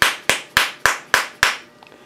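A soft hammer taps bearings onto a shaft while a Hemingway kit spherical ball turner is assembled: six sharp, evenly spaced knocks in quick succession, close and clear, then quiet.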